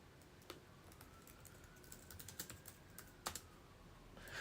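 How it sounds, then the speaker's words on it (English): Quiet computer keyboard typing of a message, scattered soft key clicks in irregular bursts with a couple of sharper taps near the end, faint and close with no talking. "Let me go just message Kira on Discord here"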